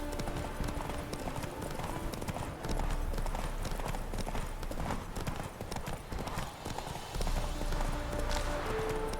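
Horse hooves clip-clop steadily in The Witcher 3 as a mount trots and slows to regain stamina, a rhythmic close thudding over game music and ambience.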